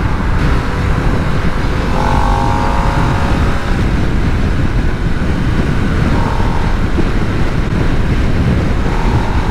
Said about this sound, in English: Yeah, so I'm aware of the wind blast.